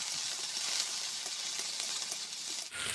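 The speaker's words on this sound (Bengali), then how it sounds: "এবার দেব রসুন বাটা।" Garlic paste frying in mustard oil in a wok, a steady close sizzle with faint crackles that runs throughout and dips briefly near the end.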